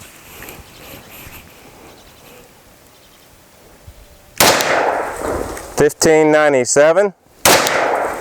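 Loud, sharp reports of 10mm Underwood 135-grain rounds fired from a Glock 40 with its stock barrel at a range, several shots in the latter half, with a voice reading out numbers between them.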